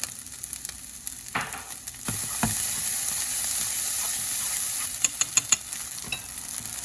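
Dungeness crab fried rice frying in a pan makes a continuous sizzle, with stirring scrapes and a quick run of sharp utensil taps on the pan near the end, no voices.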